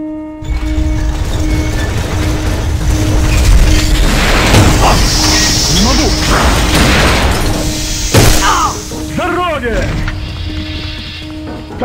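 A grenade blast in the online shooter A.V.A. Alliance of Valiant Arms, a loud boom standing out amid busy in-game gunfire and mechanical noise, with voices shouting over the action.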